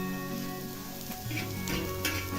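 Tamarind pulp meets a bitter gourd stir-fry in a hot pan, setting off a loud, steady close sizzle with a few soft stirring knocks and no voices.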